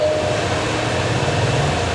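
A train runs on rails with a steady, unbroken rolling rumble and a faint sustained tone on top, loud and even throughout with no voices.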